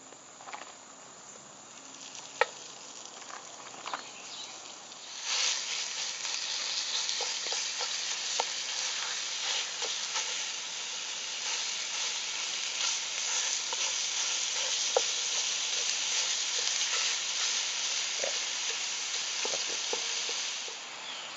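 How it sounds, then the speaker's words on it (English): Sausage for a mountain man breakfast sizzles steadily in a hot pan, a dense continuous fry with occasional sharp pops and light scraping, close and loud, with no voices. "So let's go ahead and get this sausage grilled up."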